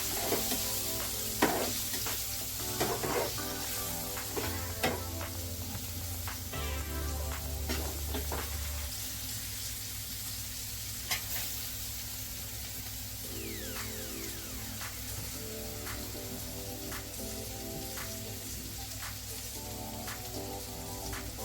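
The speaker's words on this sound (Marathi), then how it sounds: "पुन्हा आपण हे सगळं मिश्रण एकत्र फिरवून घ्यायचं" A spiced green chili mixture with garam masala, stirred in a pan and frying, sizzling continuously throughout, with repeated scraping and clinking of a spoon against the pan at irregular intervals.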